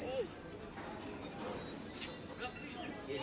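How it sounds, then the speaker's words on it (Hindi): A long Indian Railways goods train rolls past with a steady rumble and a thin high wheel squeal, moderately loud and continuous, while someone talks over it. "बहुत लंबा ट्रेन है ये तो इससे तो आवाज आ रहा है"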